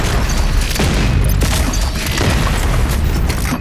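Rocket explosions in the video game DOOM Eternal, a dense, loud barrage of booming blasts that overlap continuously across the short clip with no speech.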